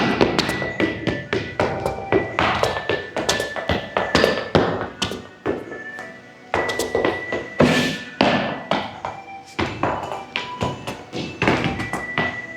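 Irish dance shoes rapping out quick rallies of taps and heavy bangs on a hard floor, a dense, loud, close rhythmic stream of sharp strikes with brief pauses between bursts.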